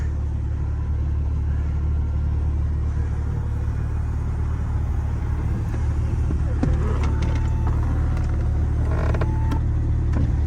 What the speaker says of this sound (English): Let's see how it looks with the top up. Just all automated, just press the button.